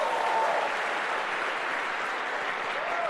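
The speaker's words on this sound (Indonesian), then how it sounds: "tepuk tangan buat teman saya itu" An audience at a talk applauds in a steady, dense burst of clapping that holds evenly for a few seconds.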